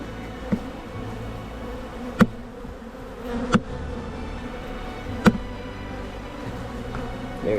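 Honeybees buzz steadily throughout a late-May beehive inspection, a dense close drone with a few sharp knocks or clicks from handling the hive frames and no talking.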